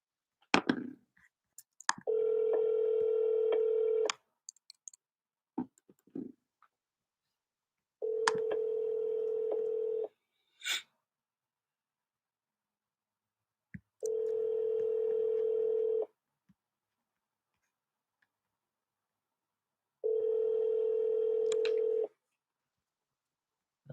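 A telephone call rings out on the line after a brief dialing click: four long ringback tones, each about two seconds, separated by quiet gaps of several seconds, heard clearly with no talking.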